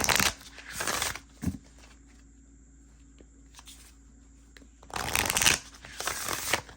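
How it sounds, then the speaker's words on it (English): Thick cardstock oracle cards get shuffled in bursts of riffling and sliding, with quieter gaps between bursts. The shuffling is close and crisp over a faint background hum. "But this is shuffling nicely. The more I shuffle them, the better it gets."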